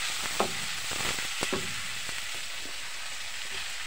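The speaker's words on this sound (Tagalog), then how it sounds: "ngayon lalagyan namin yung ano, yung dahon ng kamuting kahoy" Cassava leaves hitting a hot pan set off a steady, loud sizzle and frying hiss, with a few clinks and stirring scrapes over about four seconds and no voices.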